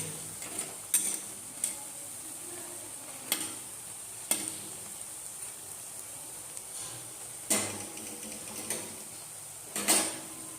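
Onions fry in a pan with a steady soft sizzle, while a spoon scrapes and knocks against the pan every second or two.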